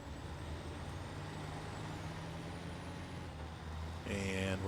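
Western Star truck grinding off-road in SnowRunner, a steady low engine drone throughout that swells louder near the end with a hiss like an air brake.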